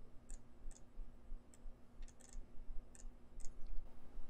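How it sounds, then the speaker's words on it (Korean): A computer mouse clicks repeatedly during Photoshop editing work, sharp, faint, close taps, some in quick doubled pairs, scattered over a quiet room background with a low hum. "그리고 더블 클릭."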